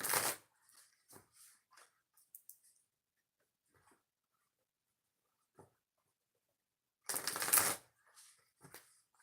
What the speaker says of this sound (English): Two shuffles for pick a card reading number 7.